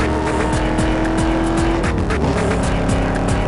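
In Need for Speed Most Wanted, a car slides with loud, sustained tire squeal over a steady roaring engine, close and continuous, with pitch sweeps as it drifts.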